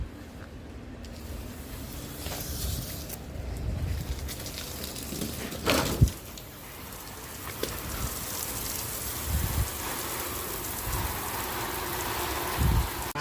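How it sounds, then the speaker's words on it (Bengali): Steady rain falls on a hot day while a livestock animal is being readied for Eid sacrifice, a constant broadband hiss with a few louder splashes and knocks, no talking. "তো এরই মধ্যে বৃষ্টি নেমে গিয়েছে।"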